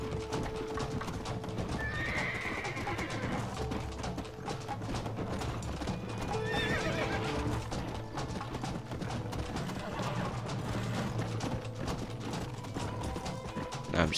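Hooves clip-clop steadily as a horse gallops in the Red Dead Redemption video game on Xbox 360, with repeated whinnies rising above continuous game ambience and clanking mechanical sounds.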